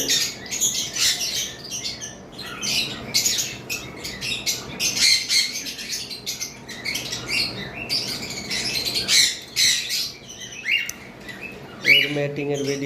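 Caged lovebirds give repeated sharp squawks and chirps in bursts, close and fairly loud, with a brief low voice near the end.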